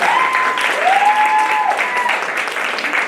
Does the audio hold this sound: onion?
no